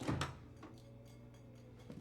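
A microwave door in the Resident Evil 7 video game swings open with a quiet click and a short clunk, followed by a low, steady in-game hum.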